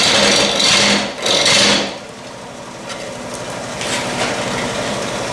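A wood lathe turns a wet, natural-edge bowl cut from a limb while a gouge makes a push cut. Two loud scraping sweeps come first, then a steady cutting hiss continues over the whirring lathe, close and fairly loud.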